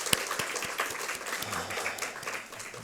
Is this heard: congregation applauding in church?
yes